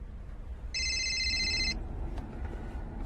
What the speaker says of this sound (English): I have a civilian call routing to your phone.